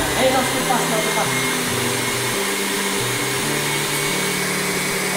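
An electric mixer whirs steadily through cookie dough for German rooster cookies in a home kitchen, its motor drone shifting in pitch as the speed changes, with no break throughout.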